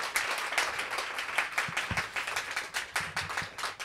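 A small audience at a literary reading claps for two readers, a fairly quiet round of applause with individual claps audible in a loose, uneven rhythm and a few sharper taps standing out.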